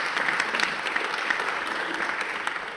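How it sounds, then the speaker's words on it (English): Sustained applause from a conference audience at a UNESCO inaugural event, a dense steady patter of many hands clapping throughout, fairly loud and unbroken, with no voices over it. "big round of applause"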